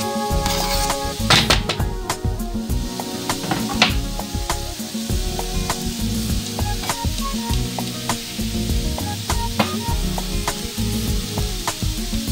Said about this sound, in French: j'ajoute mon oignon émincé